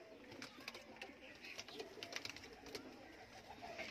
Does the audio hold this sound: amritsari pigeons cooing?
yes